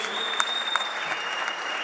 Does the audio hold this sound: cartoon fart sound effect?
no